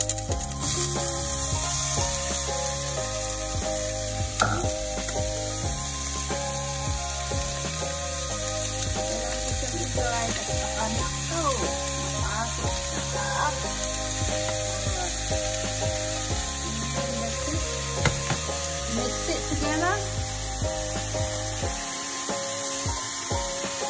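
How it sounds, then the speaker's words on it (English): Bacon frying in a pan for carbonara, a moderate steady sizzle under scraping and tapping of utensils, with occasional pitched background sounds and brief faint noises. "Also, you need to put the bacon. Put the bacon."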